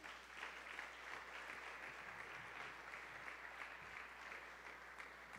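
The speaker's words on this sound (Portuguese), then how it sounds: "Aplauda Jesus por essas vidas aí." Faint, distant applause from a church congregation, a soft steady wash of many hands clapping over a low background hum, with no voices on top.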